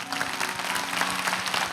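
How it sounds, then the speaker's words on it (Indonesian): Church congregation applauding during an Indonesian sermon, a brief wash of dense, even clapping heard at a slight distance. "Kasih tepuk tangan untuk Tuhan."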